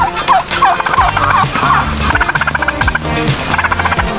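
Turkeys gobble repeatedly in rapid, warbling bursts, loud and close, several birds overlapping with no talking.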